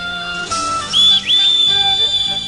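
A cartoon whistle shrills in a long, high, steady blast, broken by one short gap, loud and close over a soft musical background.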